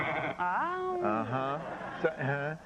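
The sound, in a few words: sheep bleating sound effect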